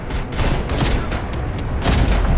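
Rocket launcher fire in the Terminator: Dark Fate - Defiance battle game, a dense barrage of loud booming blasts and crackling explosions packed tightly together, with sharp bursts near the start and a final heavy blast near the end.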